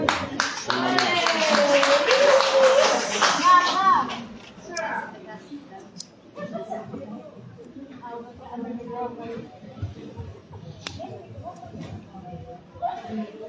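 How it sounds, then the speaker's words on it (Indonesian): An audience claps at a Christian wedding ceremony, a burst of applause lasting a few seconds before fading into scattered voices and talk. "Ya, tepuk tangan Bapak Ibu."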